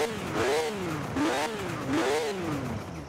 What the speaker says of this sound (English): let's give this thing a rev and hear what it sounds like first off